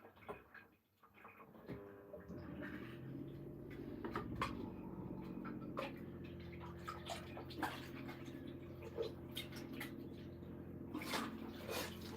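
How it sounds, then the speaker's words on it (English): Steady broadband water rush from a kitchen tap running cold water runs throughout, with occasional clinks and knocks of a cup or dishes nearby. "So let me get some water for my coffee."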